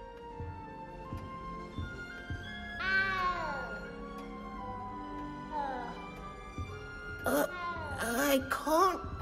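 A cat meows in the video game Hogwarts Legacy: several drawn-out, plaintive meows, one near the middle and a cluster of higher, strained cries toward the end, with quieter game sounds and a voice speaking in between.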